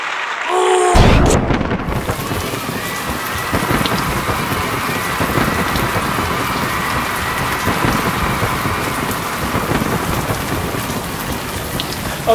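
Heavy rain pours down in a dense, continuous hiss with rumbling thunder beneath, loud and close, filling the whole stretch after a brief quiet opening.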